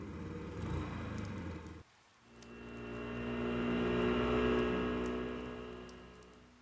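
Steady rain falls in the video game Persona 4 Golden, a dense, even hiss that cuts out briefly for a moment and then swells back louder and fuller.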